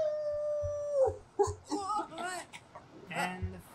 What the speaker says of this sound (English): And the firefighter is howling.